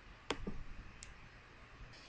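A computer mouse clicks crisply twice in close succession near a desk, then one fainter click follows, set against a quiet room hiss with no talk.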